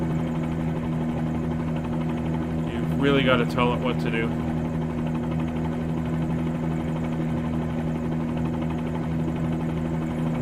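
A Bell 47G helicopter hovers a few feet off the ground while sightseeing near Toronto, its engine and rotor a constant loud droning hum throughout, with someone briefly speaking over it.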